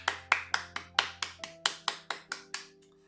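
At a Sunday church service on Parents' Sunday, a congregation claps for the parents. Crisp claps land in a regular beat, about a dozen in three seconds, over a faint steady tone, then stop.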